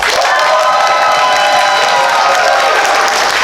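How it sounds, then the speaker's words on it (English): A theater audience at a staging of The Mystery of Edwin Drood applauds and cheers for the character Durdles, with loud, dense clapping and whooping shouts sustained throughout. "pray applaud for your favorite amongst these two here"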